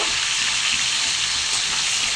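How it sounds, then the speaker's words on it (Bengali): Fish sizzles steadily in hot oil in a pan, a loud, continuous close-up frying hiss with no talk. "এরপর মাছগুলো দিয়ে দেব আমি দুদিকটা ভালো করে ভেজে নেব"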